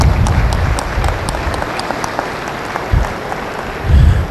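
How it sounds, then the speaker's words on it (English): Audience at a stock show junior market steer champion selection applauding, a loud, dense wash of clapping that holds steady throughout with no talking. "Let's give them a round of applause for sure."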